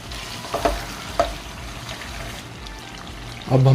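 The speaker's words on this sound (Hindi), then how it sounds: "अब हम इसमें पेठा कद्दू डाल देंगे। अच्छी तरह से मिक्स करेंगे।" Petha pumpkin is stirred into chicken frying in a pan, with a steady sizzle broken by a few clattering scrapes and stirs, and a louder burst of frying near the end.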